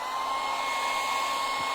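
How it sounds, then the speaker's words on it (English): A hairdryer heating a stencil transfer, a steady whirring blow with a high whine, constant and close throughout. "I just hit this with the hairdryer"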